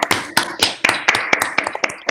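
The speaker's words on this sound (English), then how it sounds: "Let's give a round of applause." Sparse clapping at the end of an online webinar talk, a few distinct close claps in an uneven rhythm rather than a full crowd.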